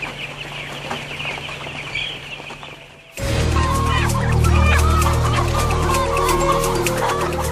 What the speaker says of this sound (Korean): 닭을 모조리 자루에 집어넣는다.